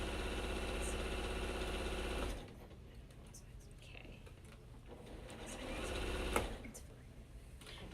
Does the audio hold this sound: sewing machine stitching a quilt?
yes